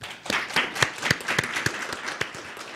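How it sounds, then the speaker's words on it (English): Sparse audience applause at a fellowship launch event, a smaller group clapping in uneven bursts for a few seconds. "So please join me in a round of applause."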